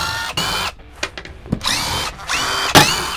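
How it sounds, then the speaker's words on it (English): Power drill backing screws out of a wooden window frame during replacement with a vinyl window, several short whirring bursts with pauses between them, fairly close. "What we're going to do is undo all the screws here."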